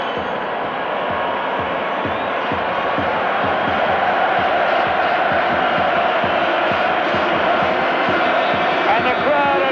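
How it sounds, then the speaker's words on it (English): Football crowd at the 1987 Cup Winners' Cup Final, Ajax versus Lokomotive Leipzig, chanting a player's name in a loud, rhythmic, repeated stadium chant, with a commentator speaking over it. "And the crowd are chanting Muren, Muren, Muren."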